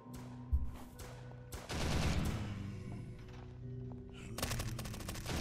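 Bursts of gunfire in the Roblox SCP: Roleplay game, several rapid shots and fusillades, loud and close, with a sharp crack early on and a heavy volley near the end.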